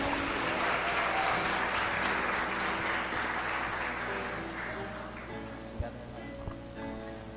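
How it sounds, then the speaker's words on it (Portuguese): A church congregation applauding during an evening worship service, a broad, steady wash of many hands clapping that gradually thins and fades toward the end, with a couple of isolated thumps near the close. "Aplauda o Senhor nessa noite pela vida do irmão Rodrigo."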